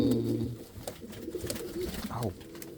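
An Indian fantail pigeon coos in low, throaty rolling notes, close by, with a person talking intermittently over the calls.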